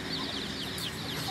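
A five-month-old young rooster clucks in a run of repeated, moderately loud calls over steady background noise, with no voices.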